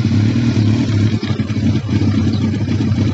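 An engine fires up after fueling and runs loud and close with a rough, clattering mid-pitched drone for a few seconds, without talking.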